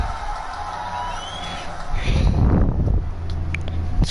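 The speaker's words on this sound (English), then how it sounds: "This crowd's probably not really happy if it was real life." Virtual stadium crowd in a Madden NFL game between the Baltimore Ravens and Pittsburgh Steelers, a steady murmur that swells into louder cheering halfway through, with some sharp whistle-like accents.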